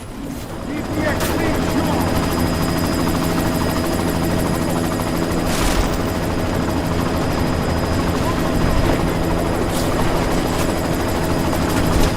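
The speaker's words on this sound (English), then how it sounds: "You've got to stop that chopper" A helicopter in Deus Ex: Mankind Divided roars with a loud, continuous rotor drone and rhythmic blade chop throughout, close and dominant, with a few sharp cracks that may be gunfire and talk over the top.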